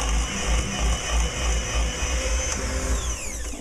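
An electric mixer whirs steadily through cookie dough, a continuous near motor drone with slight rhythmic wobble as the beaters turn, no voices.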